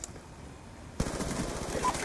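A Type 25 rifle in a video game opens fire abruptly after a second of quiet, a fast rattling automatic burst that runs loud and close to the end.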